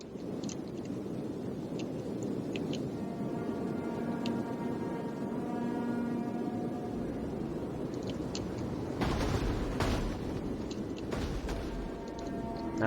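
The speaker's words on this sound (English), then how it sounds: "Ooh, nice artillery volley there." An artillery volley in Rome 2 Total War lands amid a steady roar of battle, with two loud broadband blasts arriving in quick succession near the end.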